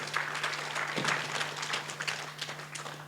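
A church congregation at a revival service claps hands together in a continuous, moderately loud patter of many hands, with a steady low electrical hum underneath.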